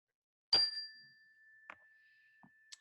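A meditation bell is struck once to begin a guided session, ringing out clearly and then fading into a long, soft, sustained hum, with a few faint small knocks and sounds following in the quiet room.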